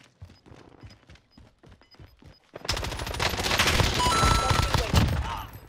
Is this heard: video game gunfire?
yes